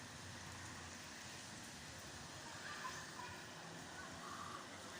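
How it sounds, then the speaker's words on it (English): Steady rain falls during a thunderstorm in Santa Ponsa, a continuous broadband hiss and patter with low rumbling beneath, even and unbroken, with no clear thunderclap standing out. "All I'm doing is just the lightning and the thunder and the rain."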